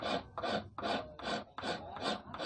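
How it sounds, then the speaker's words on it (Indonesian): A hard white-steel car brake disc is filed by hand to shape an eel fishing hook, giving a steady series of about seven close, loud rasping back-and-forth strokes with no voices. "sangat dikikisnya agak keras, beda sama baja biasa ya"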